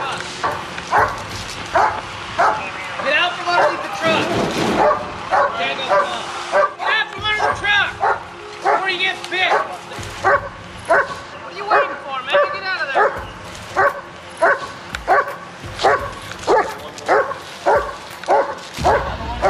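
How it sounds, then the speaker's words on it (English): A police K9 dog barks and yelps in quick repeated bursts during a roadside arrest after a street-racing stop, loud and close, with talk and radio chatter between the barks. "they got the dog out and they're doing a dog track for the guy from the other car"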